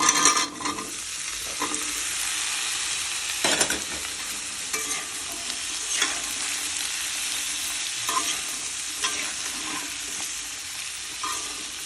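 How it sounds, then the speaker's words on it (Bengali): Cubed pumpkin frying in hot oil with black cumin, a steady broad sizzle broken by a few scrapes and stirs, close up and without talk. "এখন এর ভিতরে কিউব করা কুমড়োগুলো দিয়ে দেব।"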